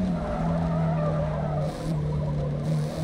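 A car in Forza Motorsport braking hard and skidding, its tires squealing in a sustained high whine over a steady engine drone with a brief dip midway.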